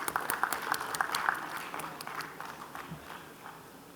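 Audience applause at a conference award presentation during a stock market technology event in Ahmedabad, a dense patter of claps that peaks early and gradually thins and fades over a few seconds.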